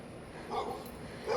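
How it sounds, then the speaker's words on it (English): An Akita loose in a front yard across the street in a residential neighborhood barks twice, short muffled bursts heard at a moderate distance with no talk over them. "this dude doesn't know how to control his Akita"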